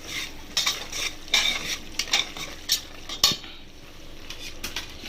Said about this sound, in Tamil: இப்போ நம்ம சிக்கனை சேர்த்துக்கலாம்.